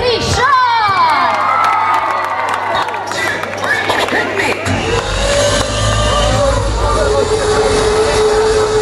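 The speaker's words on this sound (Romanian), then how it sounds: "Aplauze pentru Petrișor!" A crowd at a national light music festival cheers and shouts loudly for a performer taking the stage, with high excited voices over a continuous roar; amplified sound or music joins midway.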